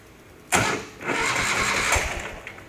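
A Ural motorcycle engine cranks and catches after sitting unused for a long time, bursting into a rough start then settling into a steady, close running idle.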